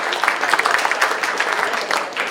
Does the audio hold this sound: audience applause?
yes